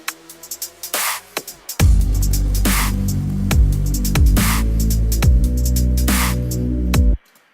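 Electronic dubstep beat with a heavy, sustained bass line, punchy drum hits and sharp high-pitched bang effects cutting in at regular intervals, loud and upfront.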